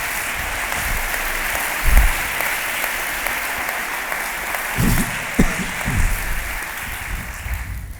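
An audience at a literary conversation event applauds steadily for several seconds, a dense wash of clapping with a few louder bumps and thumps close by before it tapers off.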